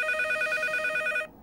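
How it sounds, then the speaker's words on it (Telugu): A telephone rings in a steady, bright electronic warble, close and clear, then stops abruptly near the end. "ఇదేంటి ఫోన్ రింగ్ సౌండ్ వస్తుంది?"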